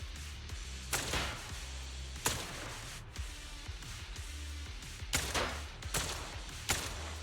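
Gunfire in a sci-fi shooter video game: sharp loud blasts and bursts spaced irregularly, a few clustered volleys with thuds between them, set against a steady low rumble of background game sound.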